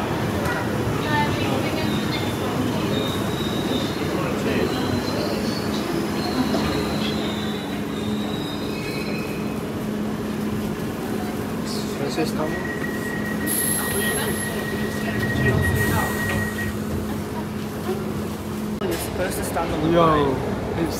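A London train rumbles along the rails with steady low droning, metallic wheel squeals and tonal whines, while people talk over the noise.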